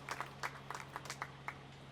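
A few scattered hand claps from the audience follow a musical performance at a Memorial Day ceremony at the Mount Diablo beacon. The claps are faint and sparse over a steady low hum.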